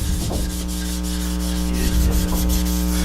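Wet sanding with 800 grit sandpaper on an oiled wooden finish, giving a steady, close, continuous rubbing scrape over a low background hum, without pauses.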